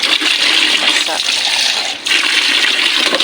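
Heavy rain and gusting wind from Typhoon Maymay roar as a loud, dense, continuous wash of water noise close by, with a voice speaking underneath.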